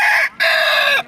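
A slim red rooster with a long tail crows once, loud and close, at a weekly village livestock market. The call breaks briefly mid-way before finishing.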